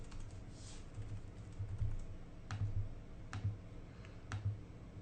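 Typing on a computer keyboard while writing Objective-C code, a quiet run of close, sparse key clicks with a few sharper taps spaced across the clip, no talking.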